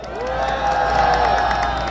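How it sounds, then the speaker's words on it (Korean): A rally crowd at a medical-policy protest at Daehanmun in Seoul cheers and applauds steadily, with whoops and a high tonal call riding over a dense, fairly loud wash of voices. "큰 박수와 응원을 앞으로 계속 부탁드립니다"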